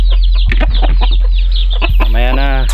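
Backyard chickens cluck and squawk close by in short repeated calls, over a steady low hum, with a person speaking briefly nearby.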